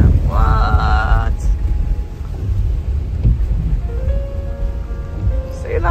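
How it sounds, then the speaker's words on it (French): A storm on the Scottish North Coast brings steady rain and wind as a loud, continuous rushing roar close by, with brief voices and a few tonal sounds over it. "C'est la tempête!"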